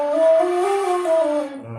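Saluang, a Minang bamboo flute, plays a breathy sustained tone with a steady pitch that wavers slightly before stopping near the end, performed alone with no talking.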